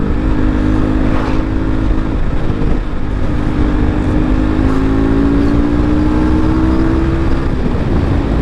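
A KTM RC200 motorcycle engine revs loudly and continuously, its drone rising in pitch across the run with no talking.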